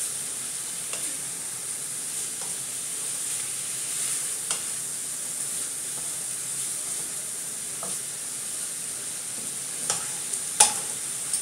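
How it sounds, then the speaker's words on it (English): Onions, turkey and mushrooms fry in a pan with a soft, steady sizzling hiss, broken by occasional light clicks and taps of stirring, fairly quiet and with no talking. "Onions, and turkey and mushrooms are cooking away."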